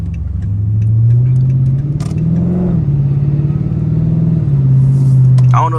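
A tuned 5.7 HEMI engine rumbles loudly as it revs and shifts through gears, its pitch climbing and dropping at each change, heard from inside the vehicle with a few faint ticks.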